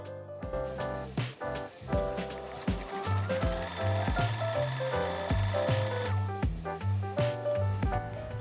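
Sewing machine stitching elastic along the edge of fabric pieces for a milkmaid top, a quick rhythmic mechanical chatter in short bursts with brief pauses, close and clear with no talking.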